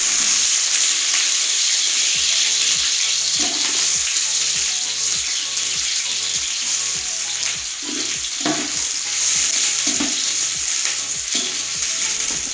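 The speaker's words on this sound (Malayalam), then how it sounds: "ഇനി നമുക്ക് ഉള്ളി വറുത്തെടുക്കാം." Sliced onions deep-frying for a Malappuram-style biryani garnish sizzle loudly and continuously up close, with occasional stirring sounds and no voices.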